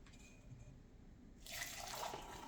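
Ginger tea poured from a container into a cup on a kitchen counter, a steady splashing liquid stream that starts partway through and continues close and fairly loud, with some spilling onto the countertop.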